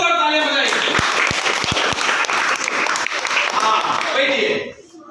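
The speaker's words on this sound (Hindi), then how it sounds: "यहाँ एक जोरदार तालियां बजाइए" Students in a classroom burst into loud, dense clapping that carries on for several seconds with a few sharp thumps near the start, then fades out abruptly.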